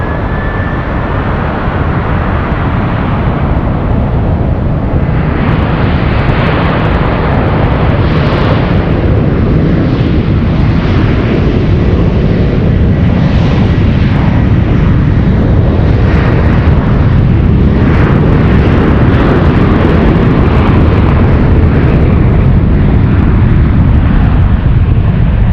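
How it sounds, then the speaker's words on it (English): A United Airlines Boeing 777-200 arriving at San Francisco International Airport from Heathrow, a loud continuous roar of jet engines rising and swelling throughout, with no voices over it. "United 900 flying in from Heathrow."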